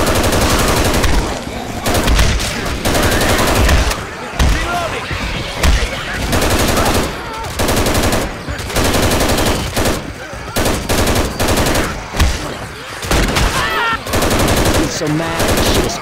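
Rapid bursts of Colt Model 723 rifle fire in Left 4 Dead 2 gameplay rattle loudly and almost nonstop, with brief gaps for reloads and faint game voices underneath.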